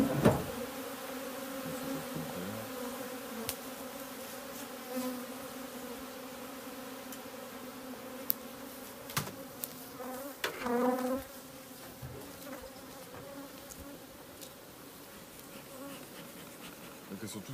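Dense, steady buzzing of many honeybees swarming around an opened beehive, a close continuous drone that swells briefly midway with a few sharp knocks and clicks, no voices.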